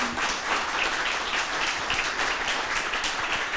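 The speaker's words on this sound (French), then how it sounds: "Applaudissements." Steady applause from a TV studio audience, a dense wash of many hands clapping at once, continuous and even for a few seconds.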